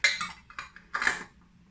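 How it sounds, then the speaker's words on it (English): Lids going onto glass jars of elderberry, hawthorn and rowan berry jelly, a few sharp close clinks and taps of metal against glass in quick succession, with no talking. "Now I'm gonna put the lids on and let these set overnight"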